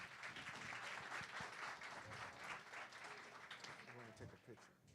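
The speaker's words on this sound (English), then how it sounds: "Give her one more round of applause." Audience applause at a conference luncheon presentation, a dense wash of many hands clapping that holds steady at moderate volume for several seconds, with voices murmuring under it, before fading near the end.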